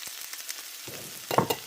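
Vegetables dusted with red chili powder sizzle softly in a pan, with a few brief scraping stirs and a louder burst of frying near the end.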